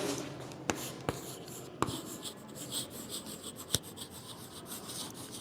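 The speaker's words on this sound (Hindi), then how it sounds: "सो लिखते हैं शेप नेम" A pen scratches steadily across paper while shape names are written out for a maths exercise, a close, continuous rasp with a few sharper strokes and no talking.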